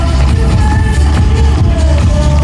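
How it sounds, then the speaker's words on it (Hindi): A big crowd at an RCM 24th anniversary gathering in Delhi keeps up loud, continuous applause with a heavy low rumble of hall noise throughout. "आप अपना उत्साह तालियों से दिखा सकते हैं।"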